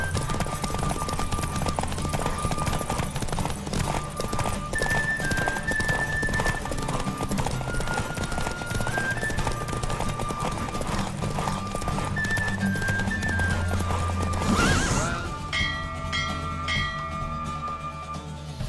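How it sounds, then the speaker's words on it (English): Galloping horse hooves during a race in the video game The Witcher 3, a steady, loud clip-clop rhythm that runs throughout under a layer of game music and ambience. "Don't spare the horse!"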